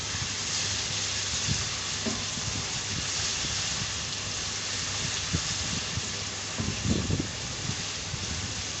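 Ginger garlic paste frying with browned onions in a karahi while making chicken karahi, a steady dense sizzle throughout with a few stirring clatters, no talking.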